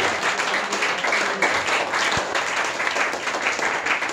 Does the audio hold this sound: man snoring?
no